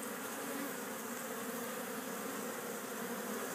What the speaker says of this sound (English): there is quite a bit of action going on in front of this hive